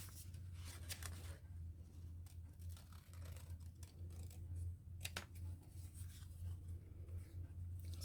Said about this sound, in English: I'll probably have to cut the black off